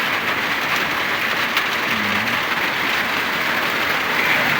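Heavy rain pours down in a steady, dense hiss that holds without pause and sounds close, with no one speaking.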